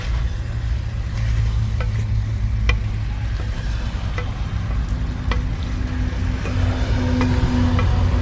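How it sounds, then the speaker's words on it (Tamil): Chicken gravy simmering and sizzling in hot oil in a cooking pot. A steady, loud bubbling hiss continues without a break, with occasional tiny pops and crackles. "எண்ணெயில் கொஞ்ச நேரம் கொதிக்கிட்டோம், அப்போ தான் கரெக்டாக இருக்கும்"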